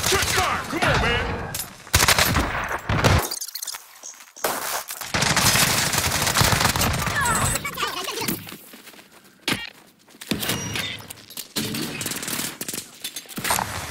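Gunfire in Call of Duty: Vanguard Warzone, with loud, close bursts of rapid automatic shots broken by short silences, plus scattered footsteps and a few faint voice lines.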